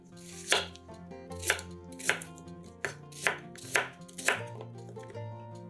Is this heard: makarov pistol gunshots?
no